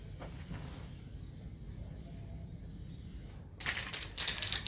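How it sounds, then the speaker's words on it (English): Spray paint can hissing onto the outside of car wheels during an MG TF wheel refurbishment, a steady faint hiss that turns into a louder, closer burst of spraying near the end. "I'm going to start on the outside of the wheels"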